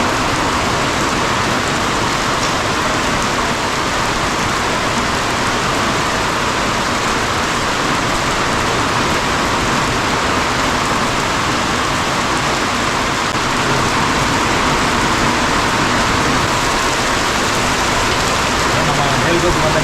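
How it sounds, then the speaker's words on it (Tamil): Heavy rain pours steadily in a forest tribal village, a dense, loud, unbroken hiss of falling water that holds constant from start to finish. "மேல்கோட்டு வந்த நேரம் மழை பெய்யுது."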